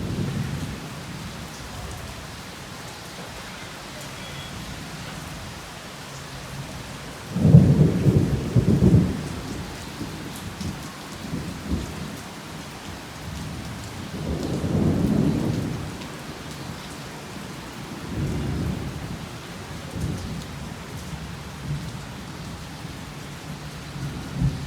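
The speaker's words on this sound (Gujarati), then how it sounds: "ફૂલ વરસાદ જામ્યો છે" Heavy afternoon downpour drums steadily on surfaces while several deep rolls of thunder swell and fade over the rain, one loud rumble early and fainter ones later, with no talking.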